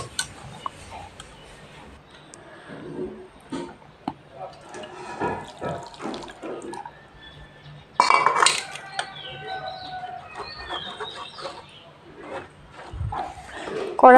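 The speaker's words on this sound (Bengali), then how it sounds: "সর্ষে বাটা জলে গুলে তারপর ছাঁকনিতে ছেঁকে নিচ্ছি।" Mustard paste mixed with water being strained through a sieve: quiet trickling and dripping, light clinks of utensils against the strainer, and a brief louder splash near the middle, all close and fairly soft.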